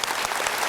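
A studio audience gives a brief burst of applause, a dense, even patter of many hands clapping for under a second.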